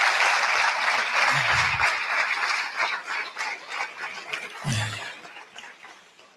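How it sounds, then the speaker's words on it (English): Audience applauding tournament hosts at a FIRST LEGO League regional event, a loud burst of clapping that thins out over several seconds into scattered claps. "give us a nice round of applause for those guys"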